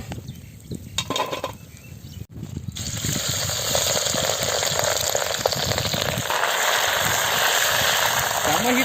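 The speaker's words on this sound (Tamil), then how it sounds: "சிப்பி சிக்ஸ்டி ஃபைவ் செம்மையாக பொறிஞ்சிருச்சு" Sea clams frying in hot oil for a village-style Clams 65, a dense crackling sizzle that swells and holds steady and loud after a quieter, broken start, with some talk mixed in early.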